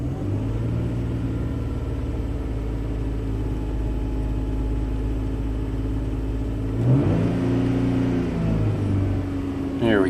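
A Nissan Xterra with a rich-running fuel fault idles with a steady, close, low engine rumble; partway through, the revs rise briefly as speech comes in over it.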